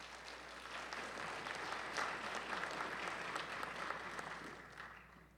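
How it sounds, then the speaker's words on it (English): A conference audience applauds its contributors at a dementia-friendly event in Bloomington, producing a steady wash of many hands clapping that sounds somewhat distant and soft before tapering off at the end. "If we can give them a big round of applause."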